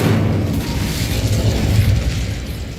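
An Incendio fire spell cast in the Hogwarts Legacy video game, giving a steady, loud, low rumbling burst of flame and booming that fills the whole moment with no voices.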